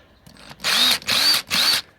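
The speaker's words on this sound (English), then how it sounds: "you have to use a drill." A power drill whirs in three short bursts, each spinning up and stopping, with a brief softer burst before them, fairly close, during carburetor cleaning on a 2007 Yamaha Rhino 660.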